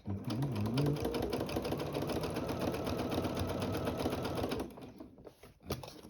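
A sewing machine running a straight stitch, with a fast, even mechanical chatter that keeps going for about five seconds, then stops, followed by a couple of faint clicks.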